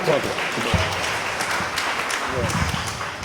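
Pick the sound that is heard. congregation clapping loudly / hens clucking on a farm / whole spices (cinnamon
congregation clapping loudly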